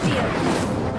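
An Incendio fire spell is cast in the Hogwarts Legacy video game, a loud, short whooshing burst with a crackling, crashing edge.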